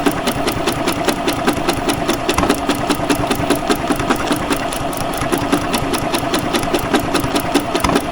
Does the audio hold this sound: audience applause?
no